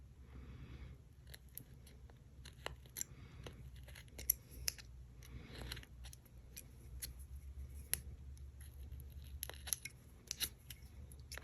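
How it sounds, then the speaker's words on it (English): Scissors snip through vinyl covering a hole on a beaded lanyard craft project, a quiet series of short, crisp cuts spaced irregularly across a near-silent background. "we covered the hole with our vinyl, so we want to just cut that part out"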